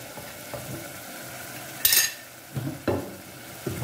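Salt, red chilli and turmeric being stirred into daal mash frying in a pan, with scraping spoon strokes against the pot, soft sizzling and a few sharper metal clinks, close up and with no talking.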